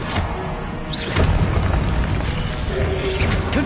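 An Incendio fire spell is cast in Hogwarts Legacy on PS5, making a loud, close, roaring blast that swells after a second and keeps rumbling steadily to the end.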